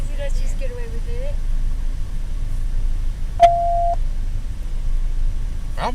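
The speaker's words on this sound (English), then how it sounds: "That beeping noise is them holding the channel." A radio channel-holding beep on a police scanner: one steady electronic tone held for about half a second, preceded by a brief warbling tone, with faint background noise.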